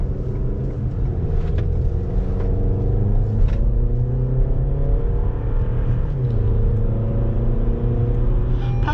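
A 2020 Toyota RAV4 TRD Off Road with a 2.5-liter four-cylinder engine accelerates, its engine rising in a smooth, steady drone heard from inside the cabin over road rumble.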